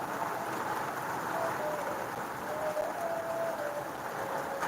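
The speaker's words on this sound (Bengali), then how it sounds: "বৃষ্টিতে অনেক শিলা পড়তেছে" Heavy rain mixed with large hailstones pours down during a storm, a constant dense hiss of falling water and ice heard from close by.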